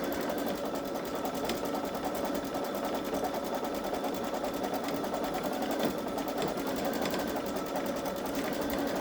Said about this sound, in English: I don't really like how it's stitching out on the woven fabric